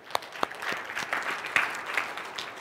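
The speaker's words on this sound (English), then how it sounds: "That's worth clapping for." Brief burst of audience applause in a church service, scattered claps rising into a short ripple of clapping from a congregation, moderately loud, no speech over it.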